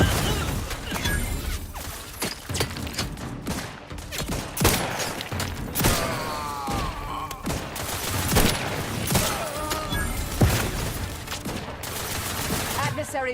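Dense, continuous gunfire from The Outer Worlds 2, with sustained automatic bursts and sharp impacts layered over a busy game soundtrack, loud and up close for the whole stretch.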